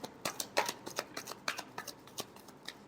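Tarot cards riffle and snap in a quick, close shuffle, a string of about a dozen crisp flutters and taps in uneven rhythm, fairly soft with no talking.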